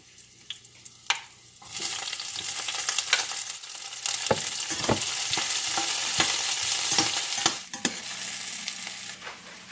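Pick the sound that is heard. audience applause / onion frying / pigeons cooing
onion frying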